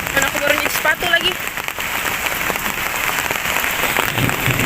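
Heavy rain pours down in a forest near a treehouse during a downpour, a dense steady hiss that roars without break. A voice talks faintly at the start, half buried under the rain.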